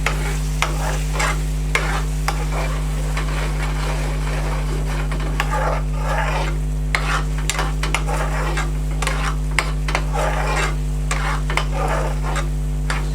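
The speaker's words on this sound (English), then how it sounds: "now I'll add our next ladle of base gravy" A ladle of base gravy goes into a hot curry pan with a chilli Naga pickle, met by steady sizzling and repeated scraping and stirring strokes of a utensil against the pan over a constant low hum.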